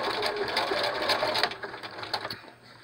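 A sewing machine runs steadily in a close, continuous mechanical whir as it chain stitches medical mask covers one after another, the motor slowing and fading toward the end.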